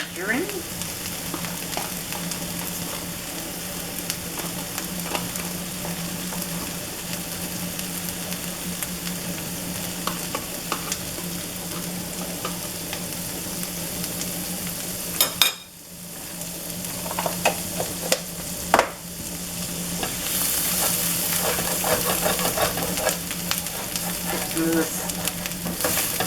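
Food fries and gets stirred in margarine in a pan, a steady close sizzle running throughout with scraping stirs and a brief dip partway through.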